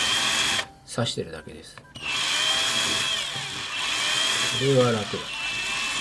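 A cheap secondhand electric drill spins a short-cut piece of broken sanding stick while shaping a vinyl Dollfie Dream DDH07 doll head. Its whine comes in on-and-off bursts, with someone speaking Japanese over it.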